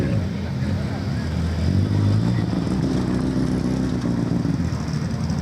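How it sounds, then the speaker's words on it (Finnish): A GT engine on a historic rally car starts and settles into a loud, steady, rumbling idle close by. The sound runs unbroken through the whole stretch, with no voices over it. "Ei muuta kuin GT-moottori käyntiin."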